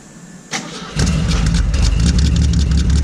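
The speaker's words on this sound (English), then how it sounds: "It's developed some fun exhaust leaks too" A Ford Falcon engine with a cracked manifold cranks and fires up, then settles into a rough, loud idle with a ticking, puffing exhaust-leak chatter, heard close up.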